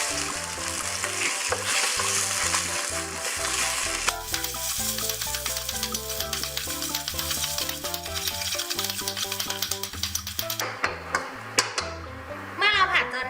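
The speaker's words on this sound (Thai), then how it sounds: "พอกระทะเริ่มร้อนนะคะ เราก็ใส่พริกแกงเผ็ดลงไปผัด" Red curry paste sizzles and crackles in a hot oiled pan while a spatula stirs and taps, with background music playing throughout.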